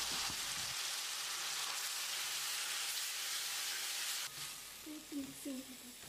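Three chopped tomatoes, about 200 grams, sizzle and hiss as they sauté with salt over softened onions in a pan for mutton gravy, a dense, steady frying crackle that eases near the end as faint voice-like tones appear.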